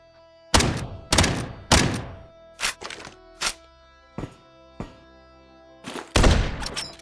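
Weapon reloading in the video game QuasiMorph, a series of sharp mechanical clacks and thunks, first three heavy hits in a row, then lighter clicks spaced apart, ending with a louder double clack.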